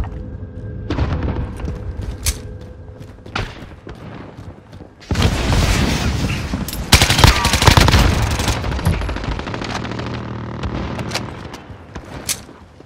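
Automatic gunfire from a sentry gun in Call of Duty: Modern Warfare, a loud sustained stretch of rapid fire with booms in the middle, surrounded by scattered single shots and game sounds.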